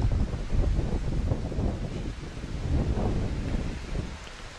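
Strong wind gusts across an outdoor tennis court during a women's match between Barbora Krejcikova and Katarzyna Kawa, buffeting the microphone with a steady low rumbling roar that swells and eases without pause.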